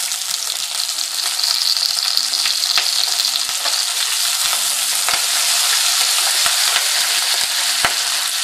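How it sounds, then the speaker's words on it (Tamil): Onions and ginger frying in hot oil with curry leaves, a loud, close, continuous sizzle with scattered crisp pops and light clicks of stirring, no speech. "வெங்காயம் ஃப்ரை ஆனதுக்கப்புறம் கருவேப்பிலை போட்டுருங்க"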